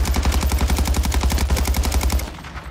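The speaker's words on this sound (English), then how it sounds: "Ooh, gunfight on top of the hill." A video game gunfight on a hilltop: rapid, evenly spaced automatic gunfire bursts loudly for about two seconds, then stops.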